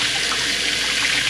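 Hot water streams steadily from a kitchen tap into a jar being rinsed out, a continuous hiss-like splash of running water, close and fairly loud, with no talking.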